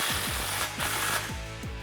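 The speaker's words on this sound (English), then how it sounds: "make sure it's angled properly and tighten down your clamp" Rapid ratcheting or impact-driver bursts tighten an exhaust clamp on a 2019-2020 RAM 1500 5.7L with a Flowmaster FlowFX dual exhaust, close and loud, in repeated short stuttering runs with no talking.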